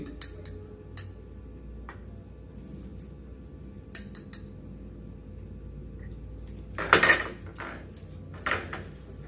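Metal spoons scoop gram flour (besan) for a face pack, giving light scraping and a few sharp clinks against a bowl near the end over a steady low room hum.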